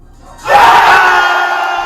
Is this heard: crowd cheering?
yes